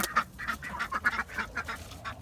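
Ducks, a trio being put in for the night in a backyard flock, quack loudly and repeatedly in quick nasal bursts close by, with no talking.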